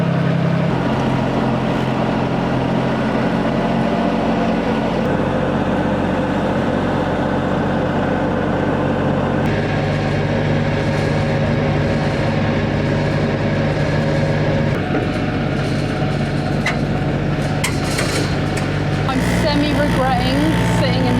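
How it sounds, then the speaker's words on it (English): A farm tractor pulls a trailer along a dusty track on a Portuguese homestead, its engine droning steadily and loudly up close with rattling throughout, and people talk over it. "Theo's in the tractor this time though, so he can't go as fast as in the car."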